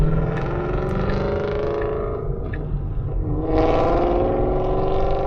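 Ford Mustang GT engine revving hard as it accelerates slowly, a loud continuous growl with rising pitch heard from inside another car in city traffic.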